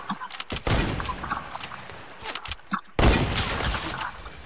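Fortnite gunfire in an arena duo match, with bursts of rapid shots and impacts, loud and close, including a heavy volley near the end.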